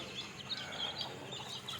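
Native chickens inside a coop peck at moringa greens, giving soft, scattered clucks and chirps against quiet background noise.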